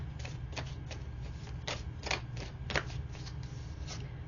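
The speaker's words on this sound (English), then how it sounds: "Let's pull some more cards and see what else is going on here." Tarot cards shuffled and pulled from a deck, a series of crisp, irregular flicks and snaps over a low steady hum, close up with no talking.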